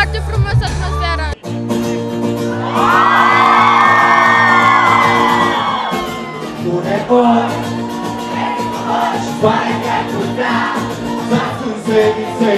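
Concert crowd at a show cheering, whooping and shouting loudly, a sustained roar of many voices close by that swells and then continues with scattered yells and talk.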